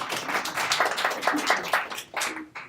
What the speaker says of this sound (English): Round of applause for Dave, please.